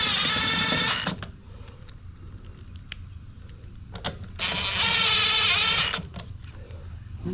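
A powered driver runs in small 8mm-headed screws on a push mower carburetor, with two loud sustained whirring runs of about a second each, separated by quieter handling noise.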